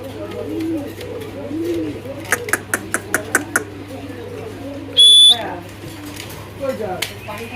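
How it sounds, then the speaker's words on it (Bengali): Fancy pigeons of the Nyodel breed coo in low, repeated murmurs close by, with sharp clicks and a brief bright whistle partway through and a steady low hum underneath. "এটা হলো নিওডেল কবুতর"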